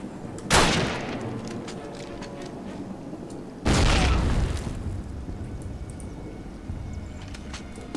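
Two heavy grenade blasts go off in Call of Duty a few seconds apart, each a loud sharp bang followed by a decaying rumble, over quieter battlefield ambience.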